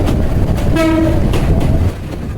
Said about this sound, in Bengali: আমাদের ট্রেন প্রবেশ করলো কুলাউরা জংশন রেলওয়ে স্টেশনে